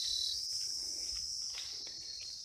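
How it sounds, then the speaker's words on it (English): Crickets chirp in a steady, high-pitched drone on a hike near Kathmandu, with a faint bird call and light footsteps underneath. "I hope you can hear the cricket."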